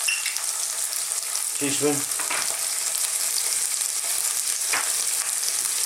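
Lamb sizzles and fries in a pan with garlic ginger paste, a loud steady crackling hiss throughout, briefly stirred, with a short spoken word in the middle.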